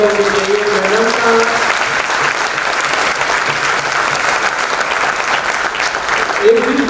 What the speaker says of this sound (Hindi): एक बार इनके लिए जबरदस्त तालियां होनी चाहिए।